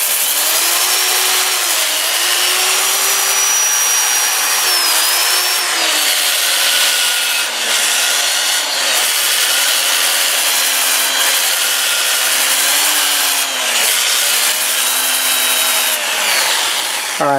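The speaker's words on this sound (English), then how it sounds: "let's get this all sanded up" Sandpaper rubs steadily against a black locust wood piece spinning on a running lathe, a continuous loud, close scratchy whir with slight rhythmic swells as the sanding moves across the turning surface.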